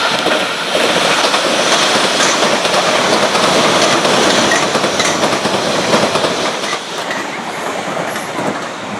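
A fast passenger train rushes beneath a footbridge at Wimbledon, a loud, continuous roar with rattling wheel clatter that holds steady for the whole stretch and eases slightly near the end, with no voices.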